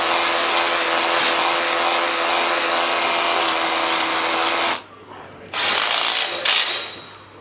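A power drill bores into brick with a loud, continuous grinding whir for several seconds. It stops, then restarts in a couple of short bursts.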